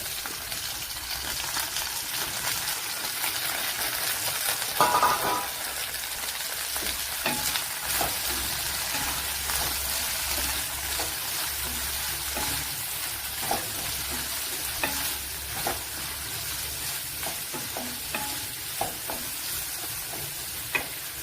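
Sliced medium onion frying in a pan for a bitter gourd curry, a continuous dense crackling sizzle with scattered light stirring scrapes and taps throughout, steady and close.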